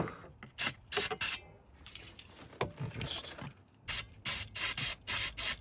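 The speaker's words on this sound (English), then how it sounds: "Well, it's a solenoid actually, so I'll get some brake cleaner" Brake cleaner sprayed onto the injector solenoid of a Land Rover Discovery 3 TDV6 diesel, in a series of close, loud hissing bursts, a few at the start and a rapid run of five at the end, with brief talk between.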